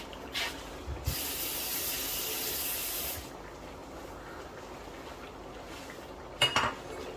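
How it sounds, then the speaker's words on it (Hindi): Mutton and potato curry being stirred in hot oil in a pot, with a soft sizzling hiss, a burst of spray and light metal scrapes of a spoon against the pot, all fairly faint. "तो अभी मैं इसमें ऑयल डाल के इसको अच्छी तरह भूनूंगा।"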